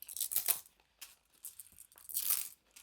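Tarot cards being shuffled by hand, three bursts of crisp papery riffling and rustling separated by short pauses, close and fairly quiet with no talk.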